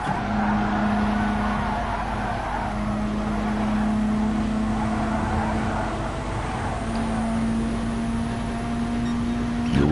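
Racing cars, including a Mustang, circulating on a race track: a steady, sustained engine drone with a held tone, moderately distant and continuous for the whole stretch, without pauses or clear pass-bys.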